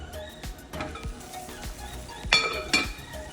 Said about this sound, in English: I'm just going to pop the lid on and let it cook for a few minutes.